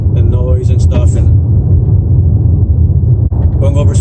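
A 2019 Buick Envision with a 2.0L turbo drives over a bumpy gravel road, giving a steady loud low rumble throughout, with someone talking over it at the start and end.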